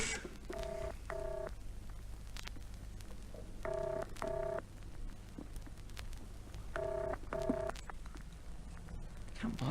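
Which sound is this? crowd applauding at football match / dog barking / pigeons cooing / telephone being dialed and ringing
telephone being dialed and ringing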